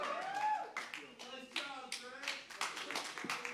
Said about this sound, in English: Clapping it for Brad.